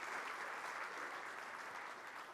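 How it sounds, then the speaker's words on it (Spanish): A church congregation applauds during a Spanish-language sermon, a faint, distant wash of steady clapping that holds for a couple of seconds. "Un aplauso."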